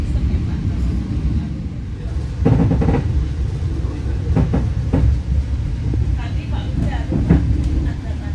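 An Argo Bromo Anggrek executive train rolls into Semarang Tawang station, a steady loud low rumble with clattering and knocks from the carriages, heard from aboard with people talking.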